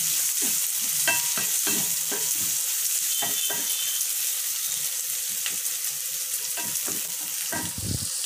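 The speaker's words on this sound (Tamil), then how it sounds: "அதையும் நம்ம நல்லா ஃப்ரை பண்ணிக்கலாம்" A large onion fries in a pan for a sorrel (puliccha keerai) chutney, a steady close sizzle broken by repeated scraping stir strokes, with no voices.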